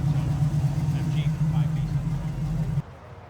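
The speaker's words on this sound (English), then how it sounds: "Nice throaty exhaust" At an outdoor car show, a car engine idles with a throaty exhaust, a steady low rumble that holds for nearly three seconds and then drops away abruptly, with crowd chatter in the background.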